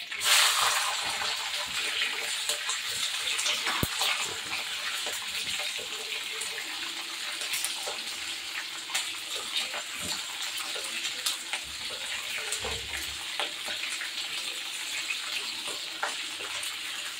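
Green chilies fry in hot oil with cumin and mustard seeds, giving a loud, steady, close sizzle that holds for the whole stretch, with scattered pops and crackles and occasional scraping.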